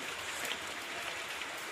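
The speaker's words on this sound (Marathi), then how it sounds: "तर मस्त असा पाऊस पडतोय." Rain falls steadily as a soft, even hiss broken by light pattering drops, fairly faint and continuous, with no one talking.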